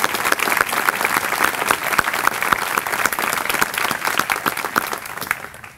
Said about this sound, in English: Let's give all 4 of those students a round of applause.